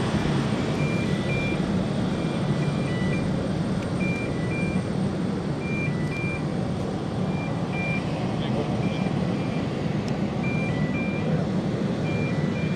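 A compact airport fire engine backs up, its reversing alarm beeping in a steady repeating pattern over a constant engine rumble and broad outdoor noise.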